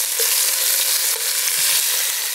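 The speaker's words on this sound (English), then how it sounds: "The sizzle will start to die down and that's when they're about ready to turn over." Chicken thighs brown in a Dutch oven with a loud, steady, close sizzle of hot fat, crackling continuously without pause or voices.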